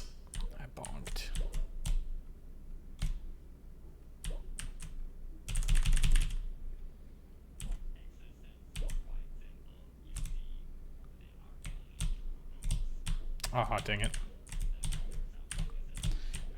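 Computer keyboard keys pressed during gameplay, sharp irregular clicks and bursts of rapid clacking close to the microphone, with a brief spoken exclamation partway through.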